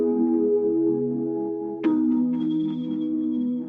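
Music track with an extreme EQ cut on one frequency band: held harmonic tones that change abruptly midway into a thinner, altered timbre with a high sustained note, loud and continuous without speech.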